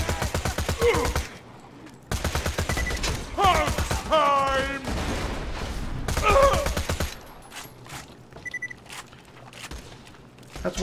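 Rapid gunfire bursts from Borderlands 2 play in quick repeated volleys with sharp mechanical clatter, interleaved with chirpy electronic weapon and effect sounds, loud and close.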